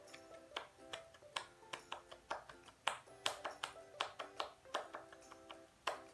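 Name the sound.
scout clap pattern performed twice by class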